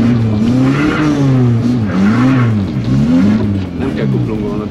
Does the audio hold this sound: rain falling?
no